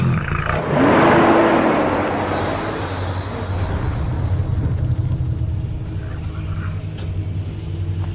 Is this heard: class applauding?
no